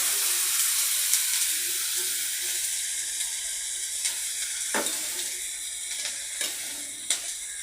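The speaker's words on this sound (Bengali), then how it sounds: "এখন এই মশলাগুলি এক এক করে সব ছেড়ে দিচ্ছি। তেল গরম হয়ে গেছে" Spices drop one by one into hot oil, a bright steady sizzle and hiss close by, with a few sharp crackles and utensil taps as more go in.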